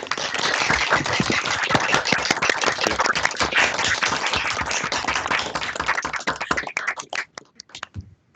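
Participants in an online seminar clap together over open microphones, a dense, loud round of applause that thins into scattered claps and fades out.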